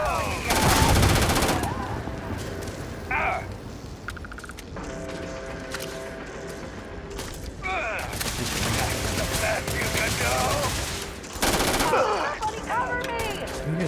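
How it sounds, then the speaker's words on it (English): Rapid bursts of gunfire from the Starfield video game, loud and close, with heavy volleys opening and closing the stretch and scattered shots and mechanical game effects between them, while a voice talks briefly over the action. "Who are you guys shooting at?"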